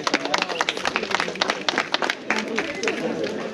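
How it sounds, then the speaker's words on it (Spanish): Scattered clapping from a crowd at a village romería festival, the Fiesta Santiaguera 2024 in San Pedro de Saño, moderately loud with voices talking over it. "Un aplauso para el tío."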